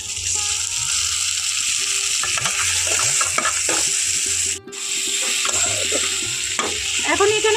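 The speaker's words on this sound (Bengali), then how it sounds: "এখন আমি এখানে দিয়ে দিচ্ছি টমেটো" Tomatoes hit a hot pan already frying ginger-garlic paste for a Bengali jackfruit curry, giving a steady close sizzle with scraping stirs and clinks throughout, briefly dipping before carrying on.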